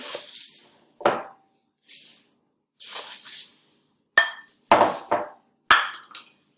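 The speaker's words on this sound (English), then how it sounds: "I'm really trying to make sure that I lift it from the bottom to get that mixture mixed in with the Rice Krispies" Spoon scraping and knocking against a pot while folding Rice Krispies into a sticky marshmallow mixture, a series of separate clinks and scrapes at irregular intervals with short silences between, close and fairly quiet.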